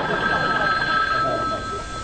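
A telephone bell rings continuously, a bright steady trill in an indoor sitcom scene, with voices faintly under it.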